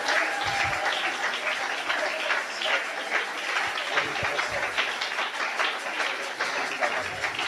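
A church congregation applauds to acclaim the Lord, a dense, continuous clapping from a crowd that holds a steady level for several seconds, with a few indistinct voices mixed in.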